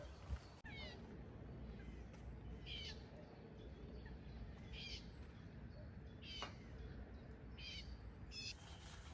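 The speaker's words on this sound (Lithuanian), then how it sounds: "Paukšteliai." Small birds chirp in short, spaced bursts at a distance over a quiet, steady outdoor background, with a soft thump at the start.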